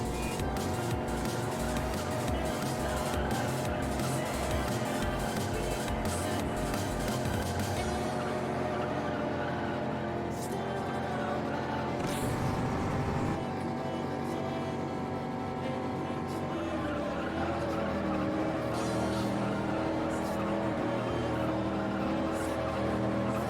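A race car in the Juiced racing video game takes a corner with a loud, continuous engine drone that rises and falls with throttle, plus some tire squeal, and no one speaks.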